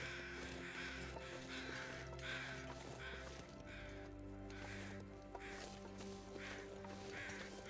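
Crows caw in The Long Dark survival game, several harsh calls repeating at a steady pace over a low wintry ambient drone, fairly faint and with no talking.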